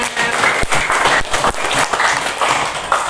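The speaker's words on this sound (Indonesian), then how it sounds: "Tepuk tangan dong buat kita semuanya" A classroom full of students claps steadily, dense applause holding at an even level throughout.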